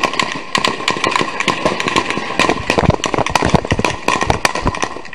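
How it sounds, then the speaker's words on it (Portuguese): Rapid, dense bursts of rifle and other gunfire crackle continuously during an armed confrontation in Complexo da Maré, Rio de Janeiro, sharp overlapping shots over a steady engine-like rumble, loud and close. "é possível ouvir pelo menos 300 tiros, inclusive de fuzil."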